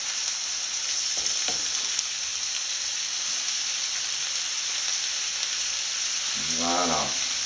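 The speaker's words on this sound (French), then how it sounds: "On va laisser saisir un petit peu le calmar, pas trop fort," Squid searing in a frying pan with a splash of white wine, a steady close sizzle and crackle throughout, with a brief louder stirring or scraping burst near the end.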